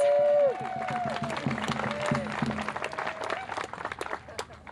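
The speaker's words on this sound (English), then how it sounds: "can everybody give her a quick round of applause?" Crowd at a Families Belong Together rally giving a quick round of applause for a nervous young singer, scattered clapping and murmuring voices following a held sung note.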